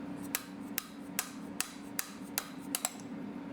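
Light hammer taps on a bolt of a 2019 Husqvarna FC 250 motorcycle during a new bike build, about nine sharp metallic ticks spaced irregularly over a low steady hum, close and fairly quiet.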